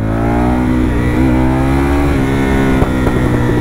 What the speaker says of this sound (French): Oh le bruit de cette moto quoi.